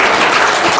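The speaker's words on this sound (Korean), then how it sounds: "박수 좀 쳐줘." Brief, dense applause from an audience at a family camp gathering, steady and close.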